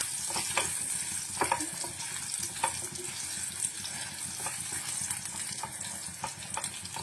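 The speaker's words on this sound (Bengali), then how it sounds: "এবার আমি দিচ্ছি আদার টুকরোগুলো, এগুলোকে সব বসিয়ে দিচ্ছি আমি এর ওপর এবং একটু নাড়াচাড়া করে নিই।" Ginger pieces fry in oil in a pan for matar paneer, giving a steady close sizzle broken by repeated sharp scrapes and clicks of stirring.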